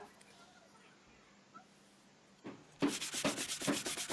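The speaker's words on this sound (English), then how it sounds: "And I gave that sanding down" Quiet room tone, then from about the midpoint a steady rhythmic scraping of sanding strokes on an old wooden bird table, close and fairly loud, repeating evenly to the end.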